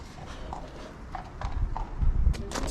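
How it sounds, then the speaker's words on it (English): Hooves of a passing horse clip-clop in a slow, irregular rhythm, growing nearer and louder toward the end, with faint background ambience. "This is a horse walking past."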